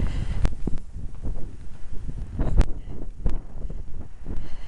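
Wind gusting across a hilltop beside a stone church on a bitterly cold April day, a steady low rumble with buffeting bursts against the microphone throughout.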